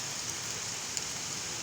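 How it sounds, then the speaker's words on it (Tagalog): Steady rain falls on a house, a dense even hiss with a few faint drop ticks, continuous and close. "kahit na medyo umuulan-ulan"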